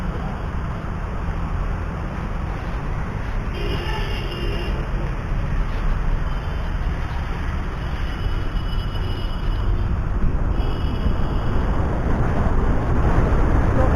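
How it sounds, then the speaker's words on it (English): A BGauss B8 electric scooter is ridden through the city with a pillion passenger aboard, heard as a steady, loud rush of wind and road noise that keeps going throughout without any talk. "So now I'm going to test this electric bike along with the pillion and see how the speed is."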